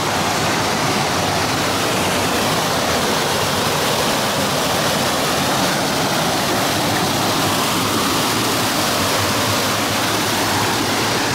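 Cheaha Falls pours steadily into a pool below, a loud, dense and unbroken rush of water with no voices and no pauses.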